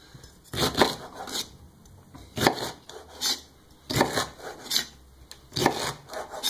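Celery is chopped with a knife on a kitchen cutting board, giving a series of crisp, fairly quiet cuts and rasps in uneven bursts with short pauses between them.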